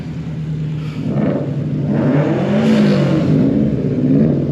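A Honda S2000 sports car engine revs up and climbs in pitch as it passes nearby at a car meet in Ayrshire, Scotland, loud and growling, with no speech.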